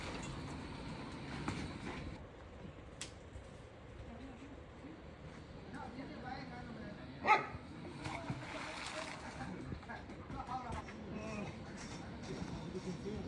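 Dogs barking and whimpering along an island trail near a resort on Koh Ngai, Thailand, with a sharp loud yelp midway over steady outdoor ambience and occasional voices.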